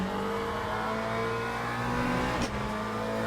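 Race car engine droning steadily in the Le Mans Ultimate racing sim, a sustained high-revving tone with a brief sharper burst near the end, loud and continuous with no talk.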